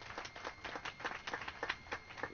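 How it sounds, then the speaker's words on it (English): A crowd applauds students at the opening of a new green schoolyard, with continuous, even clapping from many hands, somewhat muffled and moderately faint, holding steady the whole time. "can we please give our students a big round of applause,"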